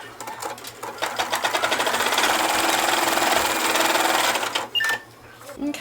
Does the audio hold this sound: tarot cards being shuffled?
no